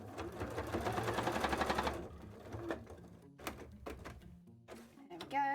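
A sewing machine runs fast and steady while stitching embroidered fabric scales, a close, loud two-second burst that stops abruptly. Scattered knocks and clicks of fabric handling follow.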